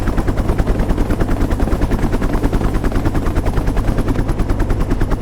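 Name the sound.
helicopter rotors and gunfire in the video game Counter-Strike 1.6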